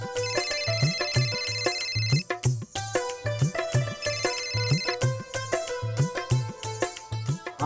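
Phone ringtone for an incoming call: a looping electronic melody with a steady pulsing beat, repeating in clear cycles, loud and close with no voices.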